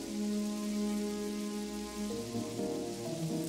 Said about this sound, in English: And then, at that moment, rain began pouring from the skies.